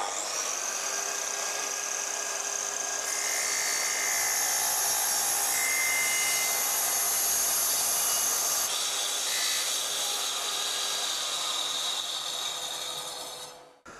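A miter saw whines at high pitch through wood with dust extraction running underneath, the cut rising in intensity midway and easing off, then the sound dies away at the end.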